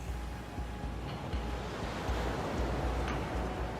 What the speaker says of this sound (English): Go to the ocean waves and just hear the music.